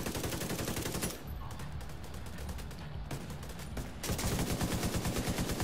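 Rapid automatic gunfire from The Division 2 video game, dense repeated bursts filling the clip with a brief lull in the middle before heavy firing resumes.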